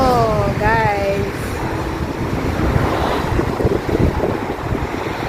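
Gusty seaside wind buffets the microphone at a kite-flying field by the sea in Greece, a loud continuous rumble with a short whistling or sung tone at the start and voices talking over it.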